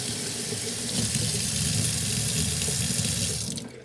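Gas hot water heater tank filling with water, a steady close rushing flow of running water that swells slightly and tapers off near the end.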